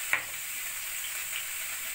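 Cauliflower fries in a pan with a steady bright sizzle, opening with one short clack of a utensil and then an even hiss throughout.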